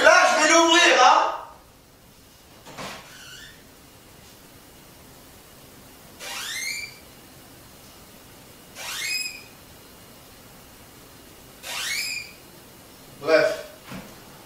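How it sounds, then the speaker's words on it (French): A refrigerator door creaks open and shut in a series of four or five short, high, squeaky creaks spaced a few seconds apart, after a brief burst of talking at the start. "Donc je vais ouvrir la porte du frigo."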